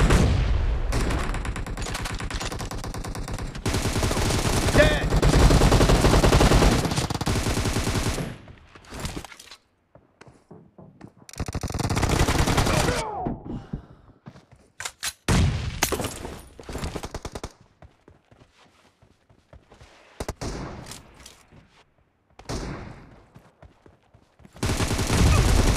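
Gunfire from a PUBG Mobile team deathmatch: loud bursts of rapid automatic shots and single cracks come in clusters, split by short quiet gaps, with a faint voice briefly heard.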